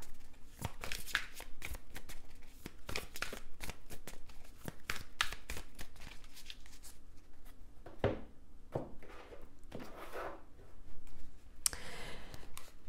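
Tarot cards shuffled and handled up close, a quiet run of crisp riffling slaps and soft clicks, with an occasional brief murmur in the background.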